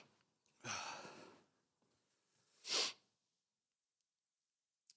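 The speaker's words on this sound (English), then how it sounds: "I apologize for the heavy breathing if that comes through." Heavy breathing after a lower-body workout in a stuffy home gym: two distinct breaths, a long exhale followed by a sharp, loud sniff or huff, close to the microphone with quiet between them.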